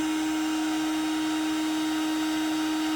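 A cordless heat gun running on a Milwaukee M18 battery blows with a steady, unbroken whir and a strong constant tone, loud and close, with no talking over it.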